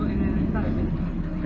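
A passenger airplane descending to land over Iquitos in the Amazon fills the cabin with a steady, low engine rumble, heard under nearby talk.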